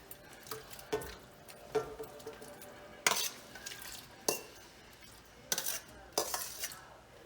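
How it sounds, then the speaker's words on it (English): Shrimp go into a seafood boil pot with a string of clattering splashes and clinks of metal, sharp bursts scattered through a quiet kitchen, no one speaking. "Now I'm going to put the shrimp."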